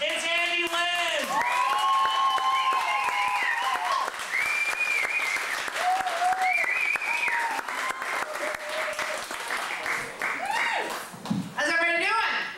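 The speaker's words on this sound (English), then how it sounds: "Ladies and gentlemen, big round of applause" An audience at a Mother's Day comedy show breaks into sustained applause, with whoops and cheers rising over the clapping throughout.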